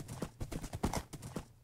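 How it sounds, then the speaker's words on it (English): Rapid rhythmic hoofbeats of a horse galloping in a survival video game, a fast clip-clop pattern that stays fairly quiet and close. "Best horse ever. This thing is so stinking fast."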